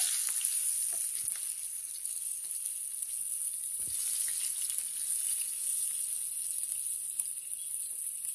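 Atlantic Ocean fish fries in a pan with a dense, even sizzle of hot oil that carries on steadily throughout, marked by a few faint clicks and stirring touches.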